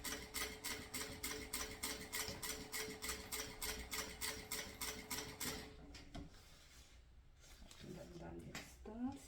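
Sewing machine stitching an edge seam on a mini backpack: a fast steady run of rhythmic clicking stitches for about six seconds, then stopping, with someone talking quietly underneath.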